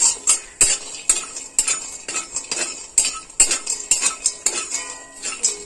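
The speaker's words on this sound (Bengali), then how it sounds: "বড়িটা একটু লাল লাল করে ভেজে নিতে হবে।" Lentil dumplings (bori) frying in a pan, with a spatula clinking and tapping against the metal in a quick, irregular rhythm, close and fairly loud over a faint frying hiss.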